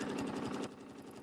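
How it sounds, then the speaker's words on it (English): Embroidery sewing machine stitching, a fast, close, steady mechanical whir with rapid needle pulses that drops to a quieter, lower hum partway through the short clip. "I'm going to stitch right to that area right there."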